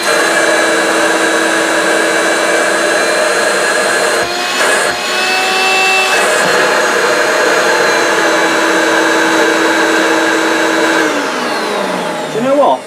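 A 1990s Hoover Turbomaster U5096 upright vacuum cleaner runs steadily on its low power setting, a loud continuous motor drone with a whining tone and a brief dip partway through, close by.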